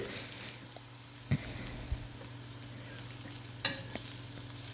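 Boiled potato kababs shallow-frying on a medium flame, giving a steady soft sizzle with a couple of brief scrapes and taps, fairly quiet over a low hum.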